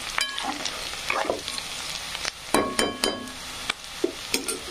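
Chopped onion fries with a steady close sizzle while salt goes into the pan, broken by several sharp scraping stirs and clinks of a spoon against the vessel, with no talking.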